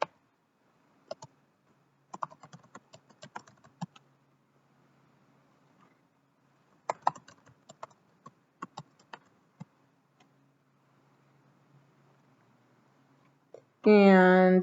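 Typing on a computer keyboard, sparse light clicks in short clusters recorded close, with quiet gaps between them and a sudden louder burst of sound at the very end.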